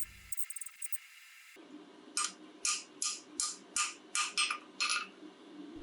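A treadle hammer with drawing dies pounds a hot steel spring to draw out a taper, delivering about nine evenly spaced, sharp metallic strikes close by after a brief quiet start.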